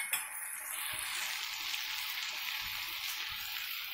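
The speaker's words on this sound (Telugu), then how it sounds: "శనగపప్పు పొటాటో బాగా వేగాయి" Chana dal and potato pieces frying in a pan give a continuous close sizzle and crackle, with a few soft stirring knocks scattered through the hiss and no talking.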